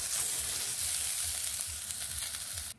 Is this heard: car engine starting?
no